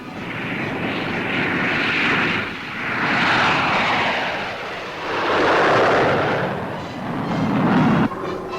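Fighter planes fly past at high speed near the speed of sound, producing a continuous loud jet roar that swells and fades in waves, with no voices.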